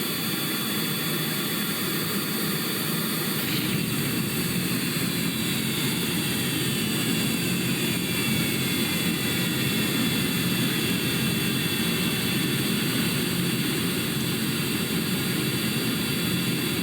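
Spaceplane jet engines in Kerbal Space Program give a steady, loud, unbroken roar for the whole stretch, with no voices over it.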